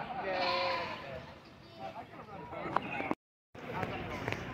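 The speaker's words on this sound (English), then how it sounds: "Baby goats, galore," Baby goats bleat repeatedly among a lively outdoor crowd at a homestead gathering in Bergholz, Ohio, their cries mixed with people talking nearby before a brief dropout.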